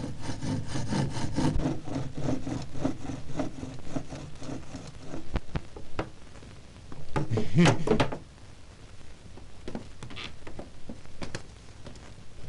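A hand saw rasps through wood in quick back-and-forth strokes, fading into scattered scraping and knocking, with a voice briefly heard.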